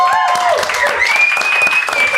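Studio audience applauding on a Mexican talk show, a steady dense clapping wash throughout with cheering tones layered on top, loud and close, with no talk over it.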